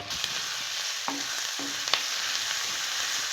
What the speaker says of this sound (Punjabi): ਤੇ ਇਹ ਬਣੂ ਜੀ ਤਾਬਾ ਸਟਾਈਲ ਤੜਕਾ